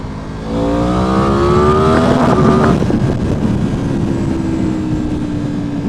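A Yamaha R1M sportbike accelerates through weekday midday traffic, its engine note climbing steadily and loud up the rev range before settling into a lower, steady drone with wind rush.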